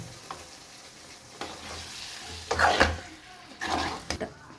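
Chicken pieces stirred and fried in a pan over medium heat, a steady close sizzle broken by several louder scraping, stirring bursts at an uneven rhythm.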